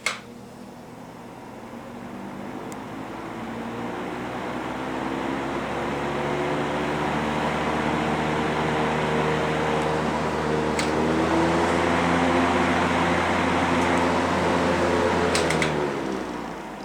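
A General Electric box fan motor runs smoothly with a steady hum and whirring blades, a faint rubbing noise beneath it, building slightly and then holding even before easing off at the very end.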